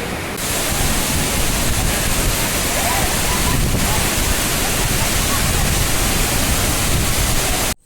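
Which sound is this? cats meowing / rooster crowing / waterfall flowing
waterfall flowing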